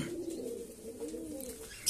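Pigeons coo softly in their loft, a low, rolling burble repeating from close by in a quiet room, cut off at the end by a brief sharp rustle.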